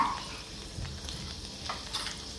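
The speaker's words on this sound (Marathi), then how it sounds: "लसूण छान परतून घेऊ आपण।" Garlic cloves, mustard seeds and cumin fry in hot oil in a home kitchen, a faint, steady sizzle with soft crackles and no talking.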